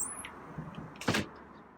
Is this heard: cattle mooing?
no